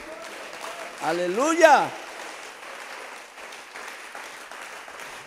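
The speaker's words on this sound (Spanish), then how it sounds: "Un aplauso para él." Church congregation applauding in a sermon setting, a soft spread of clapping beneath a loud sung exclamation from a speaker near the start, continuing faintly after.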